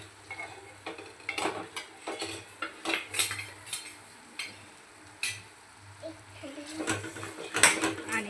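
Drumstick pods stirred and sautéed in masala in a pan, with repeated scraping and clinking of a spoon against the pan in irregular strokes over a soft sizzle, fairly close.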